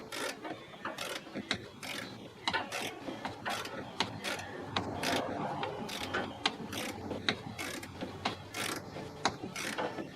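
Ratchet wrench tightening a screw into plastic on an Electrolux refrigerator, a busy run of close, sharp clicking bursts repeating throughout with mechanical rattle underneath.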